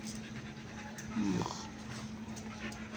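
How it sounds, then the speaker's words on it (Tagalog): A small dog indoors, Shih Tzu or aspin, panting and whimpering quietly with one short yip-like sound in the middle, faint and close, over a steady low hum and no clear barking. "Kahit wala pa dyan sa gate, kumakahol ka na."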